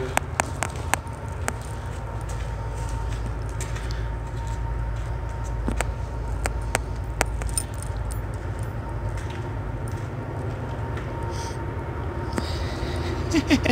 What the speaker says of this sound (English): There goes another choo-choo.